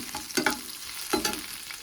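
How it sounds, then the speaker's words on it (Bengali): Onion frying in oil with black cumin makes a close sizzle, broken by two quick scraping stirs of a spoon against the pan. "পেঁয়াজ ফোড়ন দিলাম"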